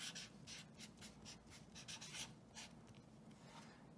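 Chalk or marker scratches across a classroom board in quick, uneven strokes, close but faint, with no one talking during the writing.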